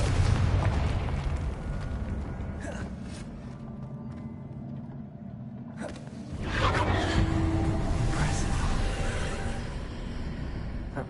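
A Confringo spell explodes in the video game Hogwarts Legacy. The first deep, rumbling blast fades, then a second loud burst and boom follow, with the low rumble continuing after them.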